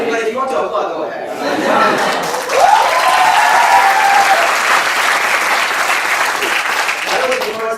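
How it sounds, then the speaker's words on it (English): A university comedy-night audience breaks into loud, sustained applause mixed with chatter and a few chuckles, the clapping swelling after a couple of seconds and staying full. "But if you want to applaud, go ahead."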